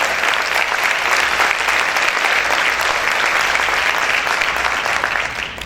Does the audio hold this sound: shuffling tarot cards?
no